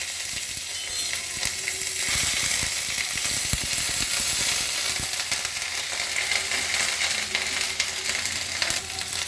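Grated ginger sizzles in hot oil with dried red chilies, bay leaf and cumin, a steady close crackling hiss with occasional stirring clicks, no voices.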